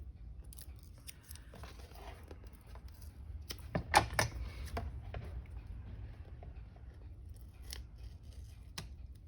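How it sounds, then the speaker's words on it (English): Scissors snip through paper while a handmade journal is assembled: several light clipped cuts, with a louder close snip cluster around the middle, in a quiet room without talk. "then I can trim this bit off"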